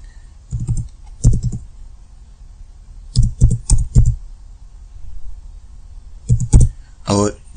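Bursts of clicky typing on a computer keyboard, entering an Iqama number into a Saudi fingerprint-check web form, in short clustered runs separated by pauses, with a voice speaking between them.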